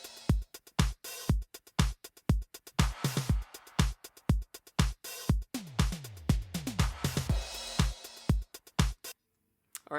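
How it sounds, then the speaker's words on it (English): Synthwave drum loop built from drum machine samples: punchy kicks, snares and hi-hats in a steady repeating pattern, with a fill of descending tom hits before it stops abruptly. "we'll be just using samples to create a basic drum loop, and it'll sound something like this when we're done"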